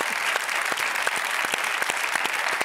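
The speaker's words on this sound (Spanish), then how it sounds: "un aplauso para ellos." Studio audience on a Spanish TV show applauding guests, steady, dense clapping with scattered sharper claps, moderately loud and continuous throughout.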